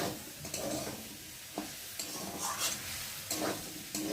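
Potato and soya chunks sauté in a spiced masala with a soft sizzle under repeated scraping and stirring strokes, at irregular intervals, with no talking.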